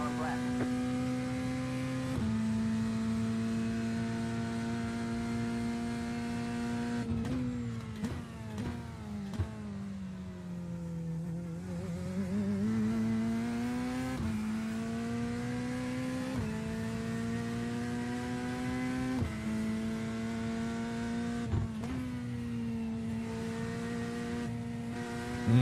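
GT3 race car at Summit Point in iRacing, engine held under throttle with a strong steady drone, pitch climbing through gears, dipping once under braking, then rising again with sharp shift breaks.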